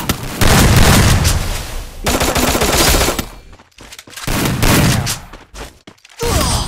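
Rapid automatic gunfire from the Free Fire mobile battle game, loud dense bursts of shots with booming impacts, broken by two short pauses before the firing resumes.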